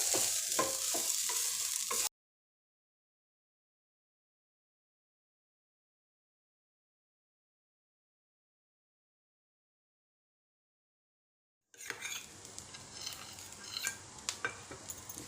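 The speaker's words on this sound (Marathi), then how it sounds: "छान परतून घ्यायचं, सोडायचं नाही आहे, हे सतत ढवळत राहायचं." Spoonful of coconut mixture sautéed in ghee being stirred and scraped in a pan, with a short burst of stirring, a long silent gap, then more clinking, scraping stirs close by.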